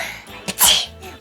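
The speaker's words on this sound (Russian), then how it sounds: "При помощи салфетки мы должны заставить себя чихнуть." A single sharp human sneeze forced by tickling the nose with a napkin, a brief inhale catch followed by a loud explosive burst, close and alone.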